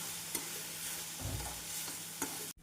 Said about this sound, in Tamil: நாம் பொரிக்கடலை சேர்த்து ஒரு முறை நன்றாக கிளறி இறக்கிவிடலாம்